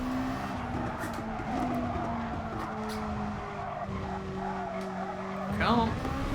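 A GR2 race car's worn tyres skid and squeal at Fuji in GT Sport, heard over a steady, droning engine tone, with a sharper rising squeal near the end.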